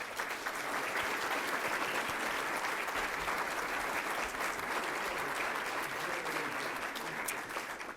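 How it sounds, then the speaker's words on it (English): An audience at a downtown development corporation event gives a sustained round of applause, with even, continuous clapping and a faint crowd murmur beneath. "Let's give them another round of applause, shall we?"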